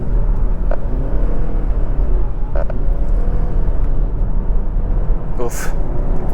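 A 2022 Lexus ES300h F-Sport hybrid accelerates up a freeway on-ramp, a steady loud rumble of engine and road noise filling the cabin, with a few faint clicks and a brief high whine near the end.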